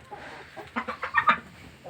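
Roosters cluck in a short burst of several calls amid a low background of farmyard noise.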